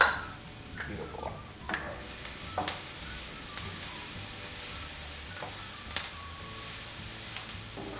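Minced garlic sizzles steadily in a frying pan beside onions while making Spam fried rice, with a continuous hiss broken by occasional clinks and stirring scrapes, close and moderately quiet.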